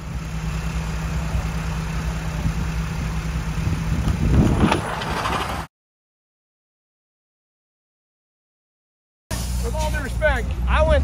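A limousine engine idles steadily at close range with a low continuous rumble, cutting to silence partway through before the running engine returns under brief voices.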